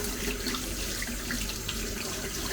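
Warm water runs steadily from a tap over ceramic water filters during cleaning of a British Berkey gravity filter, a continuous close hiss and splash with no talking.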